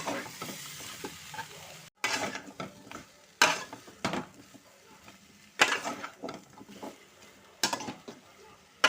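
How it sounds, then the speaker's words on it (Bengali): Eggplant pieces with spices are stirred in a pan, a low sizzle broken by several loud spatula scrapes and clatters against the pan at irregular intervals, close up with no talking. "বেগুনগুলো দিয়ে দিলাম ভালো করে নাড়তে নাড়তে"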